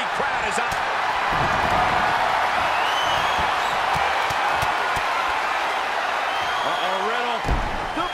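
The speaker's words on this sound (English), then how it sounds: "Every person in this capacity crowd is up." A capacity wrestling arena crowd at a RAW event roars and applauds in a loud, sustained wash of noise, with a commentator talking over it and a few sharp thuds.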